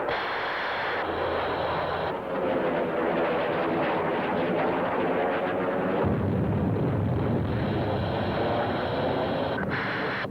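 Aircraft bombs released during a close air support run for Marine ground troops, heard as a continuous loud roar of jet engine noise with rumbling, broadband bursts swelling in the middle, no talk over it.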